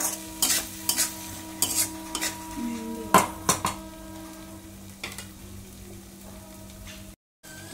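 Curd, cashews, raisins, capsicum and coriander are stirred together in a cooking pan, with repeated clinks and scrapes of a spoon against metal over a soft sizzle, ending in a brief silent break.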